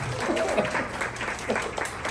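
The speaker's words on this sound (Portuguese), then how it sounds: "aplauda os locutores da Lagoinha Shizuoka." A church audience applauds the Bible readers, a moderately loud, continuous patter of many hands clapping, with a few louder individual claps and a faint voice briefly audible underneath.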